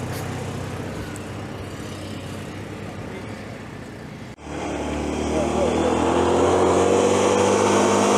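A Citroen 2CV engine idles, then is revved up hard, rising to a loud, sustained droning roar close by.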